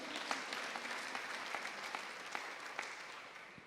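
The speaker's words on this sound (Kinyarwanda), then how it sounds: "Twaha Imana yacu amashyi niba twabyumvise" Church congregation applauding steadily throughout, a dense, even wash of many hands clapping at moderate distance with no voices on top.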